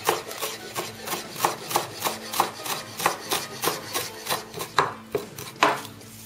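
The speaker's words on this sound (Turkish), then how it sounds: "Maydanozumuz vardı. Onu ince bir şekilde kıyalım." Steady knife chopping of fresh parsley on a board, a run of evenly spaced close thuds about three to four per second, crisp and alone with no talking.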